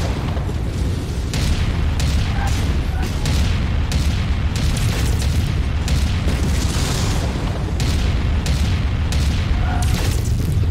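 Rapid-fire autocannons on a combat mech in MechWarrior 5: Mercenaries: heavy repeated booming shots in quick, irregular bursts over a constant low mechanical rumble, loud throughout.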